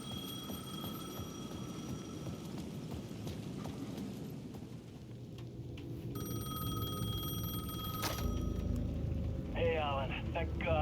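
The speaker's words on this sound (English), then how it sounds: "The payphone at the edge of the plaza was ringing again." Payphone at the edge of a plaza in the video game Alan Wake 2 rings in repeated electronic trills over a low ambient rumble, with a sharp clang midway and a fluttering warble near the end.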